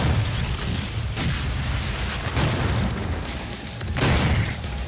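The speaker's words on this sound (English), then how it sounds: "Sir, can I interest you in an exploding barrel?" Exploding barrels blowing up in the video game Doom: loud, rumbling booms one after another over a dense, noisy backdrop of continuous game sound.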